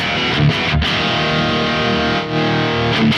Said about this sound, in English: we have a noise gate in this amp, which is very good using P90s. This is the Kemper amp.